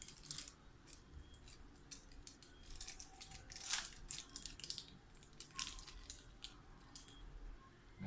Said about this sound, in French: Ensuite, maintenant, ma petite barre de chocolat. Je vais l'ouvrir.